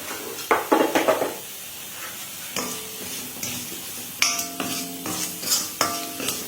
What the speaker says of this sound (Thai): เราก็จะผัดให้เข้ากันค่ะ